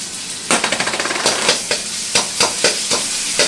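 Minced meat frying in a little oil in a hot pan, sizzling steadily while being stirred and tossed with sharp repeated scrapes and clatters of a utensil against the pan, close and fairly loud with no talking.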